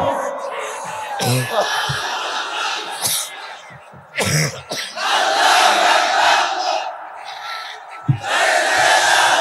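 A large crowd at an Islamic sermon gathering shouts the takbir in unison in loud, repeated bursts, with brief pauses between the roaring chants.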